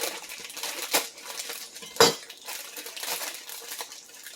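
Brussels sprouts being sliced with a knife on a kitchen cutting board, soft crunchy cuts with a few sharper knocks and clinks, close and quiet with no talking.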